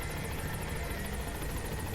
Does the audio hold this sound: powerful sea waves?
no